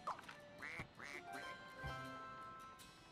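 In the video game Scribblenauts Unlimited, a cartoon duck gives several raspy quacks in quick succession, then a last one, all faint behind quiet game sounds.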